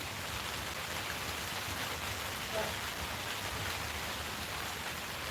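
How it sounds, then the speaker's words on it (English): Rain falls on a roof as an even, unbroken hiss of light-to-moderate drops, steady and close throughout with no distinct individual hits. "I don't think it's supposed to rain heavy anyway."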